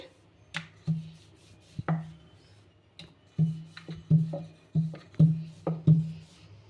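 A rolling pin works puri dough made from leftover rice, oiled and rolled thin, giving a run of soft, close wooden knocks and rubs in an uneven rhythm with short pauses in between.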